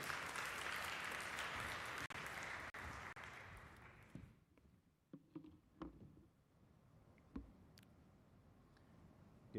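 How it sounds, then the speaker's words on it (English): Audience applause at an engineering symposium as the executive mayor makes his way up, a dense, steady clapping that fills the room for about four seconds before breaking off into scattered, isolated claps and quiet room noise. "Let's give him a round of applause as he makes his way."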